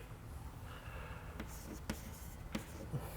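Marker or chalk writing on a board during a continuum mechanics lecture, quiet scratchy strokes with a few sharp taps, faint and close, no talking.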